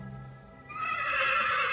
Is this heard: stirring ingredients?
no